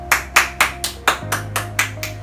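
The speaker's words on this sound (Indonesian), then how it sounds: "Tepuk tangan untuk kita semua." Eight slow, evenly spaced hand claps, crisp and close, each ringing briefly over a low background hum, sounding like a single clapper or a small group keeping time rather than a full crowd.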